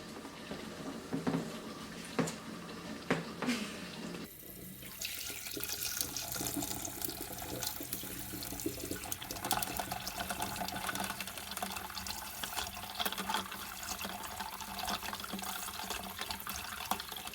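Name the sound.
tap water filling a bowl for an ice bath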